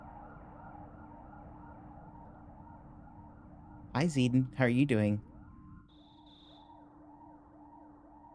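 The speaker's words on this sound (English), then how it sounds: "All you hear is cop cars." Police car sirens wail outside in a steady, repeating rising-and-falling pattern, moderately loud, with someone briefly speaking over them before the sirens continue alone.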